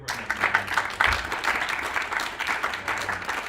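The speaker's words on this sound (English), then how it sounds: "can we just give her an" Audience applause, a steady wash of many hands clapping at moderate distance, sustained evenly throughout without voices on top.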